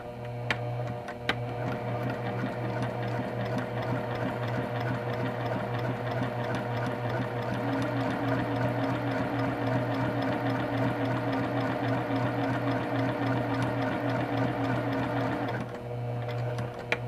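A Juki sewing machine stitches a half-inch seam on quilt blocks, a steady close mechanical whir and rapid needle clatter running continuously for about fifteen seconds before stopping, with a faint tick near the start.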